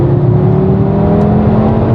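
An Audi RS3 with a 7-speed DSG gearbox drops into 3rd gear and accelerates, heard from inside as a loud, steady engine drone with rising tonal harmonics and a short sharp blip partway through.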